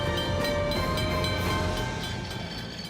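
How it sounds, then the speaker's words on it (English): Kolkata tram rolling along its rails, a continuous metallic rumble with steady screeching tonal whine and faint rhythmic clacks, close and fairly loud, easing slightly toward the end. "Kolkata's iconic trams"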